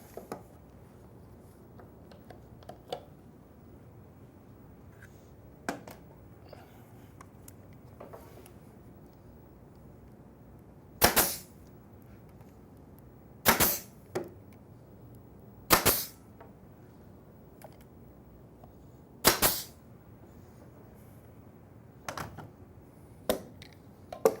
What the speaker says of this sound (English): Just going to clamp that up there so I can drive some pins